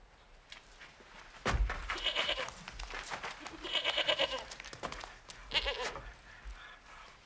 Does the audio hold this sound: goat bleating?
yes